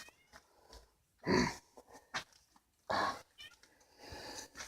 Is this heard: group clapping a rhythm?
no